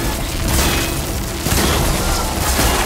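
A canister detonates in Horizon Forbidden West: a loud, sustained burst of booming, crackling noise fills the whole stretch, with a fresh blast surging about halfway through.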